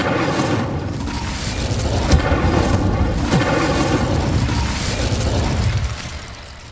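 An Incendio fire spell in Hogwarts Legacy releases a sustained, loud roaring blast with booming rumble and a few sharp crackles, fading out near the end.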